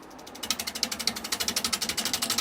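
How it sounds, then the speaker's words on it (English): Rapid rhythmic scraping chatter from a wood lathe tool making a push cut into the bottom of a punky pine bowl, steady pulses close and fairly loud with no talk. "I'm just doing a push cut basically into the bottom of the bowl"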